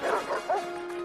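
Dogs bark and yip in a quick cluster of short, high calls, the last one stretching into a thin whine that trails off.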